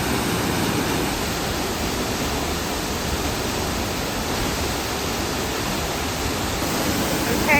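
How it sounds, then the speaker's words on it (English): A waterfall along Eagle Creek roars in a steady, dense rush of falling water, loud and unbroken from start to finish. "There's so many waterfalls here."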